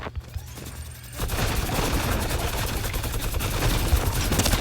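A minigun fires in a video game, opening with a quieter stretch and then breaking into a loud, sustained, rapid roar of gunfire that runs unbroken to the end.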